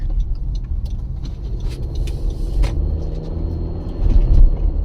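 A car drives slowly past a school at about 20 miles an hour, heard from inside as a steady low engine and road rumble with faint ticks and no talking.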